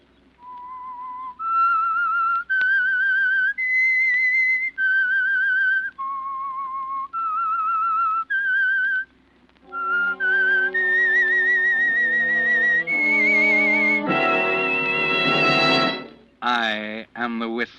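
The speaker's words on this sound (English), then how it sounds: "That whistle is your signal for the Signal Oil Program" A whistled theme tune for the Signal Oil radio mystery program The Whistler: a lone, clear melodic whistle of sustained notes rising and falling for most of the passage, joined toward the end by an orchestral swell.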